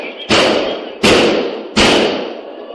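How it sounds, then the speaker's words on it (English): Gunshots ring out on a police body camera in Nashville: three loud, sharp reports spaced evenly under a second apart, each trailing off in a brief echo. "all of these shots that we hear at this point"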